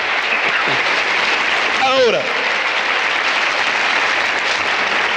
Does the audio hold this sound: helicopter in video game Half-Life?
no